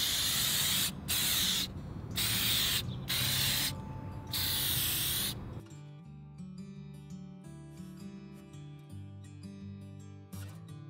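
Several short hissing bursts from a spray can lay shellac coats onto an antique table, each a few seconds long with brief gaps, loud and close, followed by music.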